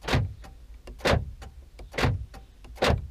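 Central door locking on an Opel Corsa 1.4 Enjoy automatic cycles repeatedly, giving four loud mechanical clunks about one second apart with faint ticks in between, heard close up and alone.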